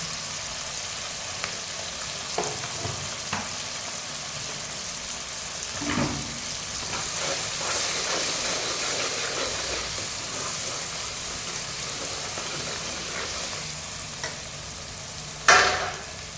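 Red chili, desi chili and turmeric frying in a pan for dal, a soft continuous sizzle with faint stirring scrapes and occasional clinks, one sharper knock near the end, no voices.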